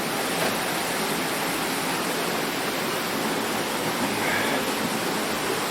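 Water rushes steadily through the wooden sluice gate of an old mill on Mill Creek in Mackinaw, Michigan, a constant loud broadband roar with no breaks and no voices.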